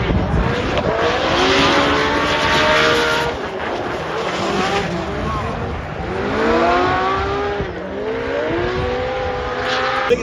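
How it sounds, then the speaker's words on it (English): A Toyota GR Supra race car drifts at big angle through a competition course, its engine wailing and revving with rising and falling pitch sweeps and tire noise, while a commentator talks over it. "Massive angle from that Toyota GR Supra."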